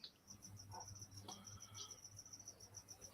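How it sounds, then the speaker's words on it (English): Crickets chirp in a yard and house, a faint, steady, high pulsing trill repeating in even bursts, with soft background noise beneath. "You got crickets in your yard or something?"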